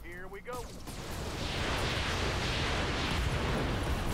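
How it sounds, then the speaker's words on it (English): Missiles dumped onto an enemy mech in the RogueTech BattleTech mod erupt as a loud, dense rumble of explosions that swells after a brief opening whoosh and holds as a continuous roar. "we're going to dump our missiles on this guy"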